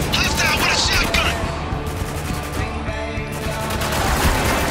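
Shotgun and other gunfire in the video game Spec Ops: The Line, a dense rattle of repeated loud shots and booms, heard close and continuous under a voice talking over the action.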